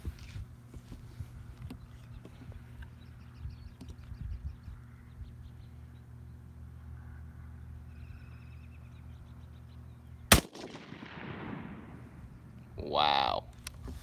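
Shooting session with a single sharp, loud gunshot cracking out midway over a quiet background hum, followed by a short burst of noise near the end.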